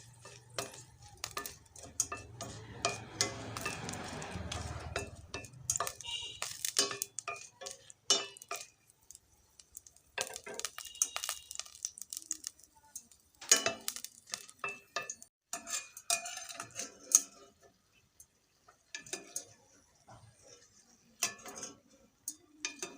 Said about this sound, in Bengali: মরিচটা একটু তেলের মধ্যে ভাজা নিই।